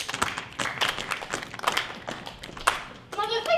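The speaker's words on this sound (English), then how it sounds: "Clap if you believe." Theatre audience at a high school stage show clapping in scattered, uneven bursts, close and moderately loud, with talk mixed in.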